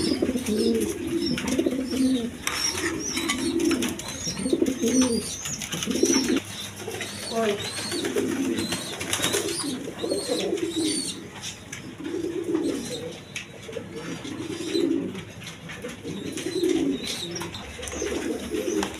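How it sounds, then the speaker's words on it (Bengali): Pigeons, including orange-colored birds, coo in repeated low, throaty rolling phrases at close range throughout, with other birds chirping faintly in the background. "দেখেন দেখার মতো কোয়ালিটি সম্পন্ন কবুতর।"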